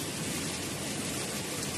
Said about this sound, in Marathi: आणि पावसाचा जोर चाललाय